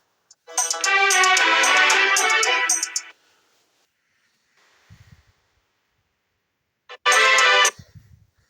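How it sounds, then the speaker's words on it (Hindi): An electronic phone ringtone plays loudly for a few seconds, stops, then a brief snort-like sound follows before the tone starts again. "आपकी पढ़ाई के समय ही फोन भी बज जाता है"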